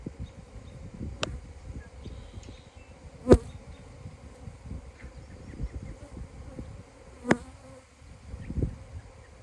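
A steady, faint buzzing of many honeybees at a colony during a hive inspection fills the background, with a few sharp clicks and taps standing out above the hum.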